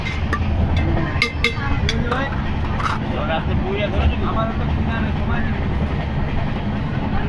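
Crowded reserved passenger train compartment running, a steady loud rumble of wheels and carriage noise with scattered clicks and rattles throughout, passenger chatter mixed into the din.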